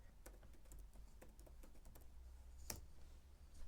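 Soft, quiet keystrokes tapping out a Wi-Fi password on a computer keyboard, an irregular patter of clicks with one sharper key press near the end.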